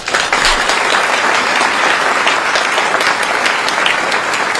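Loud, dense, sustained applause from a crowd at a University of Utah hospital announcement, an unbroken wash of clapping that fills the whole stretch without any pause.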